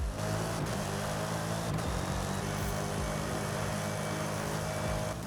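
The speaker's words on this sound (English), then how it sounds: "it can make a little bit of noise if we hit the acceleration button" A 1955 Corvette in Forza Horizon 5 revs hard under acceleration, a loud sustained engine drone with layered low harmonics that holds steady, heard alone.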